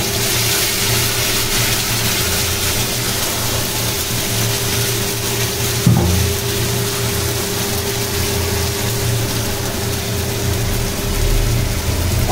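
A paste of ginger, green chili and tomato hits a frying pan of fried onions and sizzles in a steady, close hiss with a faint underlying hum, with no talking.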